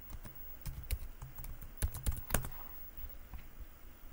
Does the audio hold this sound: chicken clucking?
no